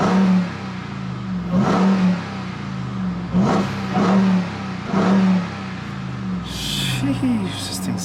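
A Ram TRX truck's engine revs sharply several times in quick succession, loud bursts rising over a steady idle, with a higher whine near the end.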